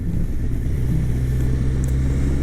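A Kawasaki Concours ZG1000 sport touring motorcycle being ridden, its engine giving a steady, close low-pitched drone with a constant hum and no talking.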